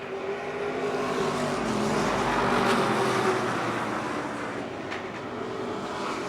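Stock cars racing around the Motordrome Speedway oval, a steady loud engine roar that swells and recedes slightly as the pack passes, with no voices over it.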